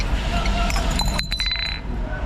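Broken glassware is handled in a dumpster in Kuwait, with a short burst of bright clinking and rattling glass midway through over a steady background rumble.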